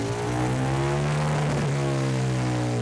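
Harley-Davidson VR1000 engine running on a dyno, a loud, steady, close drone with strong harmonic tones that hold nearly level, dipping slightly and then recovering, with no voices.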